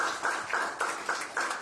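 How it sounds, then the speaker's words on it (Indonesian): A church congregation clapping in rhythm during a Sunday service, a steady quick patter of many hands held at a moderate, slightly distant level, with no voices over it. "Beri tepuk tangan buat Tuhan."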